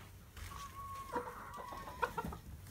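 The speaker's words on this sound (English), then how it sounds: "This is the laying hens. We have approximately 100 of them" Laying hens in a flock of about 100 cluck softly and intermittently at close range, with a few sharper calls toward the end over a quiet background.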